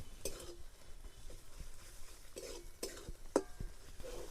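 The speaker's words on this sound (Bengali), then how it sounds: "পেঁয়াজ আর আদা বেশ খানিকক্ষণ নাড়িয়ে নিব যতক্ষণ না আদার কাঁচা গন্ধ চলে যায়" A spoon scrapes and knocks in a pan of frying onion and ginger, giving scattered clinks and scrapes over a faint, quiet sizzle with no voices.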